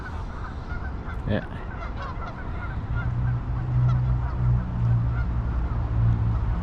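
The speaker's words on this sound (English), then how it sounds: "the geese in that down there, making all the noise, as you can hear" Geese honk loudly and repeatedly at a distance across open water below a bridge deck in Calgary, with a steady low rumble underneath and a brief spoken word.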